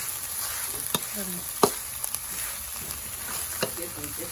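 Rat meat stir-fried with holy basil in a pan, a steady close sizzle with scattered clicks and scrapes of stirring, while a voice speaks briefly in the background.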